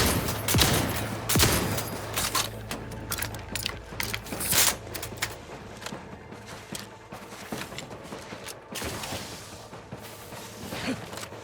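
Guns being cocked and handled in the video game The Outer Worlds 2, a dense run of sharp metallic clicks, ratchets and clatters, loudest early then thinning into scattered mechanical snaps.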